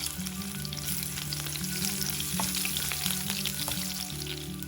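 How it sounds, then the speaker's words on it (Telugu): Four dried red chillies and seven or eight lightly crushed garlic cloves fry in hot oil for Guntur gongura onion chutney. A steady, close, crackling sizzle runs throughout with faint stirring and no talk. "ఆయిల్ వేడయ్యాక 4 ఎండుమిరపకాయలు, 7-8 వెల్లుల్లి గబ్బాలని కొంచెం దంచి వేసుకోండి."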